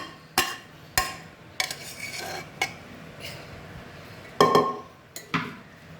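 Rice being stirred in a pot for Badshahi pulao, with a spoon scraping and knocking against the metal in several sharp, close clanks separated by quieter rubbing.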